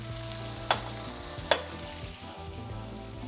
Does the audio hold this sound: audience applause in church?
no